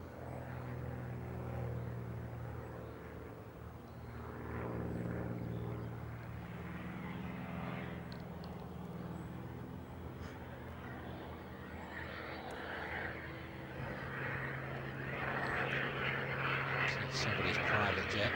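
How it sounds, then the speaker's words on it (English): A private jet resembling a Learjet passes over a golf course beside a busy airfield during a professional tournament, its engine roar swelling and fading as a steady rumbling drone throughout, with the jet's rush growing brighter toward the end. "Somebody's private jet."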